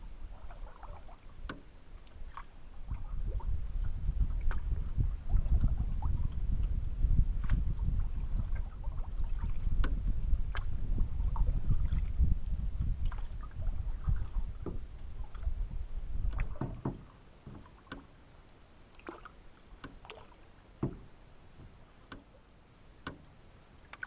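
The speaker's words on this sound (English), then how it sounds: "I decided to go for a late afternoon paddle and just look around." A canoe paddled on an Algonquin lake on an October afternoon: steady close swishing and gurgling strokes with light wind for about sixteen seconds, then a quieter stretch of drips and soft water movement.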